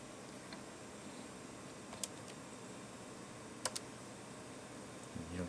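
A few sparse key clicks on a TI CC-40 computer keyboard while logging in to a BBS, faint isolated taps over a quiet hiss, with a soft clatter at the end.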